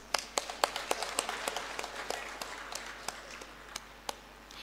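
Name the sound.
audience applause for prize winner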